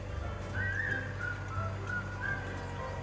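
A person whistles a cheerful tune in a series of wavering, sliding notes, held and repeated over a steady low background hum.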